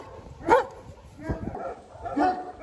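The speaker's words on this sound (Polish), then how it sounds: "jest bardzo dużo psów, które bardzo głośno szczekają" Several loud dog barks from many dogs ring out in short bursts, roughly two clusters about two seconds apart, close by on Curaçao, with some voices mixed in.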